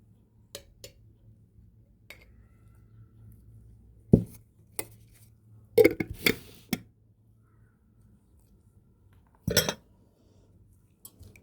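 A spoon clinks a few scattered times against a pot or container while tomato paste is added during home cooking. The sharp, brief metallic taps are separated by quiet gaps.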